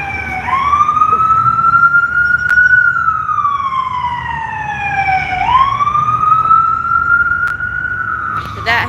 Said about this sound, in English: Did that help with the siren?